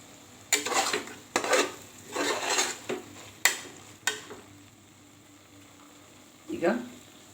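Vegetables in oil being stirred in a pan for vegetable pulao: several scraping strokes of a spoon against the pan, spaced about a second apart, with a faint sizzle underneath and a final clatter after a pause.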